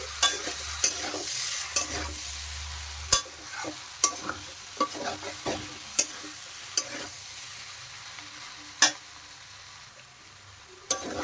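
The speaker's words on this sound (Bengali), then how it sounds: "আবারও দেখুন নেড়ে দিচ্ছি।" A spatula stirs potato and jackfruit with prawns as they fry in a pan, making a soft continuous sizzle broken by a dozen sharp scraping knocks against the pan, with no talking.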